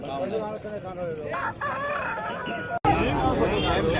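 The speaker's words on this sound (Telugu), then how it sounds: "మంచి సైజు, బ్రీడింగ్కి అయితే బాగుంటుంది పుంజు." A seven-month-old, two-kilogram breeding rooster crows at a busy Saturday hen market in Mydukur, the call rising clearly over steady crowd noise and nearby talk.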